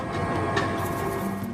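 A train rumbles steadily past a railroad crossing in Mexico City. The hum is continuous and fairly close, and there is no talking.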